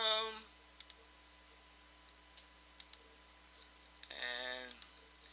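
A computer mouse clicks quietly several times, sharp single ticks spread across a few seconds near the microphone, with a voice speaking briefly at the start and again near the end.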